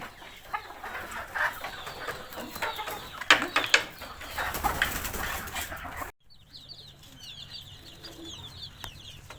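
Chickens cluck and flutter nearby in a busy village farmyard with about thirty ducks and over sixty hens, then the scene quiets to softer chirping birds.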